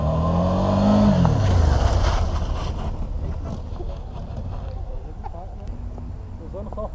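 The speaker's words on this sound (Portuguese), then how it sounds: "Agora eu vou fazer a demonstração usando só o freio traseiro" A motorcycle braking hard with only the rear brake during a riding-safety course, its engine note dropping sharply as it slows, followed by steady road and wind noise while people talk.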